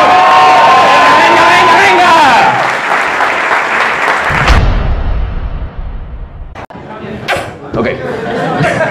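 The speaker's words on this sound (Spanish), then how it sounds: "Un público muy chingón, un fuerte aplauso a la gente que estamos aquí." Loud applause and cheering from a comedy-show crowd in Mexico City fills the opening seconds over voices, then the clapping fades away and quiet chatter and a few isolated sounds remain.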